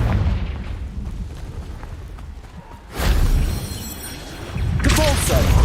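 In Hogwarts Legacy, a Confringo blasting curse erupts in two heavy, loud booms with a rushing burst of noise. A low rumbling battle ambience sits beneath them, and a spell effect rings out near the end.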